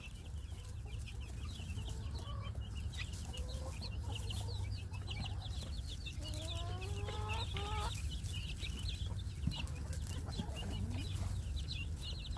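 Barred Rock and red chickens cluck and call in a backyard flock, with several birds giving repeated rising and falling notes over a steady outdoor hum.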